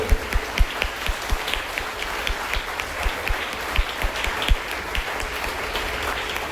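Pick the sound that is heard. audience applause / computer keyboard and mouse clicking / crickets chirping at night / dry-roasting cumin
audience applause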